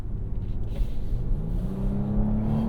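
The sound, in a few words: Genesis GV80 engine sound played through the speakers in sport mode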